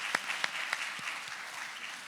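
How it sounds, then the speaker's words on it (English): Audience applause at a talk on racial equity, a dense continuous patter of clapping with a few sharper individual claps standing out near the start, steady and fairly close. "So I just want to give NGAAP a round of applause for 16 years."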